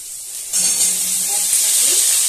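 Potatoes and pumpkin pieces drop into hot oil in a pan and set off a sudden loud hiss that keeps sizzling strongly and close up.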